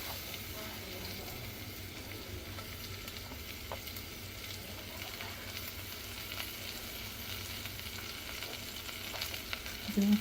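Onion and ginger fry in a pan for ragi vermicelli upma, giving a soft, steady sizzle at low volume that runs evenly throughout, with no speech.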